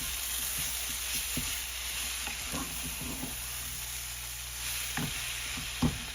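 Sweet potato khichdi for a fast is stirred in a hot pan, giving a steady close sizzle broken by scraping spoon strokes at an uneven rhythm, with no talking.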